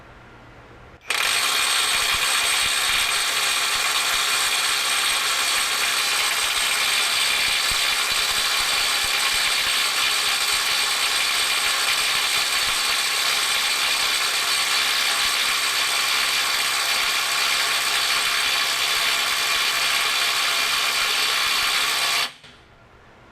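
A NEIKO 20V brushless 3/8-inch impact wrench hammers on a stubborn fastener in one long uninterrupted burst of about twenty seconds, a loud, dense, buzzing rattle of rapid impacts that starts and stops abruptly.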